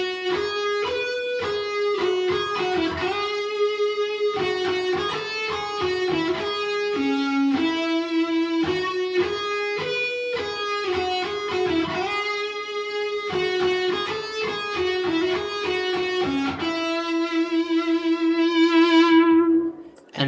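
Electric guitar plays a song's chorus riff alone, a run of bright picked melodic notes in a repeating pattern that ends on a long sustained note.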